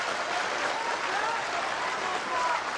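Sustained applause from a snooker crowd at the O'Sullivan versus Judd Trump 2017 final, a dense, steady clapping wash that fills the whole stretch without letting up.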